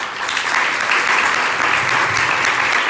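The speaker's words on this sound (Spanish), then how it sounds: "hermoso aplauso" An audience claps after a talk at a consulting-room conference, loud sustained applause filling the room evenly without pause or voices.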